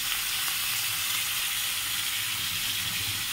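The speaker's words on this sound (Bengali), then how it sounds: "কেটে রাখা পেঁয়াজ, টমেটো দিয়ে দিলাম।" Chopped onions and tomatoes hit a hot pan on a gas stove and fry with a steady, close, even sizzle throughout, with no voices.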